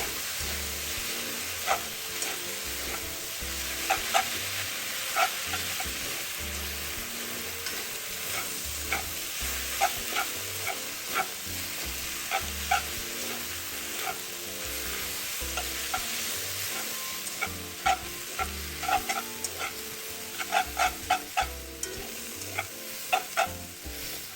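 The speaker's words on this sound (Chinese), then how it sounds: "快火，快手做最后一次拌炒" Instant noodles with diced canned meat, fresh red chilli, oyster sauce and soy sauce are stir-fried over high heat. There is a steady, close sizzle, broken by frequent light clanks of a spatula against the wok.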